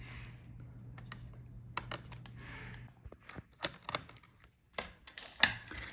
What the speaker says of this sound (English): So unscrew these screws.